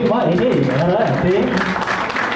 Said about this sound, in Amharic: አጨብጭቡላት እስኪ በእናትህ